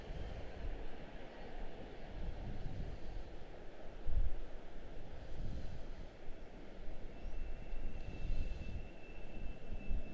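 A United Airlines Boeing 737 MAX 9 jet at Washington Dulles airport gives a steady, fairly distant engine rumble and roar that holds throughout, with no voices over it.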